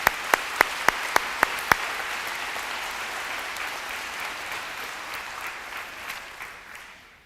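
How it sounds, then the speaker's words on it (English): A large audience at a high school graduation ceremony applauds steadily. A few sharp claps stand out at the start, then the clapping fades slowly toward the end. "Let's give them a round of applause."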